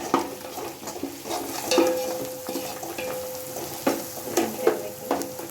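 Steady sizzling of chicken frying in onion and spice masala in a pan, with a spoon scraping and stirring in short bursts throughout, close and fairly loud.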